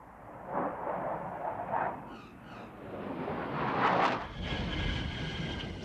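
A Dassault Mirage III jet roars faintly in a distant, muffled rumble that swells, fades and swells again, with no voices.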